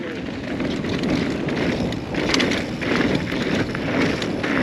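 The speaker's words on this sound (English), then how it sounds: "It was windy up here." Steady wind roars and buffets the microphone with constant, loud rushing noise, swelling in gusts, on a mountain bike trail.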